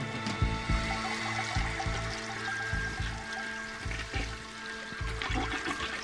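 A toilet flushes close by, a loud rushing gurgle of water with repeated surging pulses that churn on steadily for several seconds, with no talking over it.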